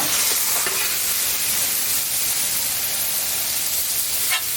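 Shrimp with cabbage and carrot sizzle on a hot griddle, a dense, steady hiss of frying throughout with faint scraping of a spatula stirring the food.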